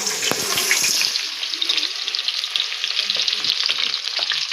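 Green garlic going into hot oil in a frying pan for a Gujarati roasted eggplant dish, giving a steady sizzling fry with light stirring clatter, close and fairly loud throughout with no talk.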